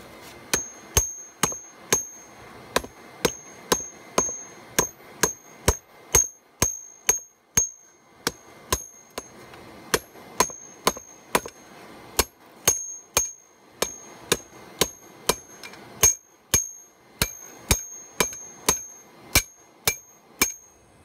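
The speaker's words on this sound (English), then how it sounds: "Now I'm going to forge out the blade." Hammer forging a spear blade from a lawnmower blade: sharp metallic ringing strikes repeat steadily in bursts of quick blows with brief pauses, close and clear with no talk.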